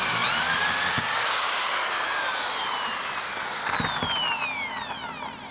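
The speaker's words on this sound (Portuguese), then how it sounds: "fazer um furo com passagem de broca" A portable electric drill bores a through hole in unsupported material with a steady whirring drone, a bright descending whine rising above it and a couple of brief knocks and bumps as the bit works.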